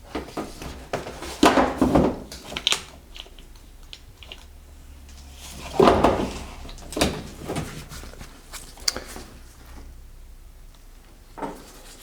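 A door panel is refitted to the body of a Peugeot 205 GTI, with scattered plastic knocks, clicks and thumps at irregular moments against a quiet background.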